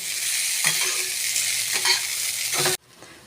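Boiled noodles are tossed and mixed in a hot pan with vegetables and egg, giving a continuous close sizzle with a few scraping stirs, before the sound cuts off abruptly near the end.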